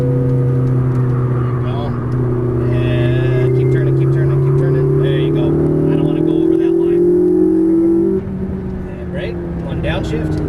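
McLaren MP4-12C engine rolling through a turn, then accelerating with a steadily rising, loud harmonic drone, tone dipping briefly near the end as the throttle lifts, with someone talking over it.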